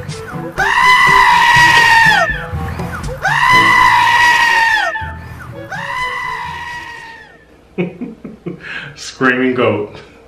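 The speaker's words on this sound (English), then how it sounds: "Screaming goat. Classic screaming goat." A goat lets out two long, loud, human-like screams in a row, followed by a few shorter, choppier bleats and cries toward the end.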